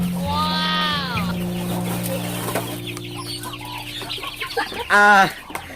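Chickens cluck nearby in a series of short, rising and falling calls, with one loud squawk toward the end over faint background noise.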